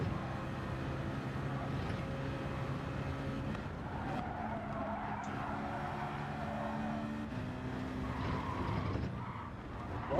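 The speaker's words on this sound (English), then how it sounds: "We're just messing about doing donuts." Car engine revving steadily with tyres scrubbing and squealing as a car spins donuts in Gran Turismo 7, a continuous loud drone with shifting engine pitch and no talking.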